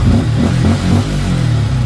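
A Yamaha Sniper 155 motorcycle engine revs loudly and close in first gear, its low rumble rising and falling in steady pulses.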